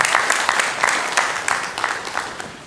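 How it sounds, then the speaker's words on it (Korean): A church congregation applauds during a Sunday morning worship service, giving loud, dense clapping with a loose collective rhythm that holds through the short stretch and tapers slightly. "우리 영광의 박수를 우리 하나님께 올려드리겠습니다."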